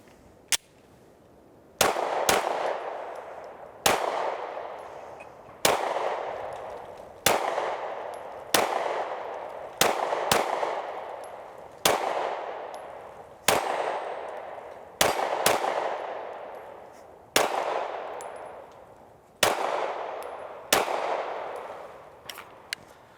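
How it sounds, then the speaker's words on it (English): Mossberg MC2C 9mm pistol fired outdoors in a steady series of single shots spaced roughly two seconds apart, each sharp crack followed by a short decaying echo, loud and close with no talking. "We put 200 rounds through the gun today."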